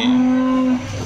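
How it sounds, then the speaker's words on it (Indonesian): A single sustained, droning call from a Boer goat on a farm, nearby and loud, holds steady for most of a second before tailing off. "materinya kambing-kambing yang ada di peternakan sini"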